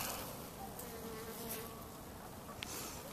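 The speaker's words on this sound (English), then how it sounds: "there's still bees going all over" Bees buzzing continuously nearby in a garden, a steady droning hum with individual insects passing close at moments, against outdoor background noise.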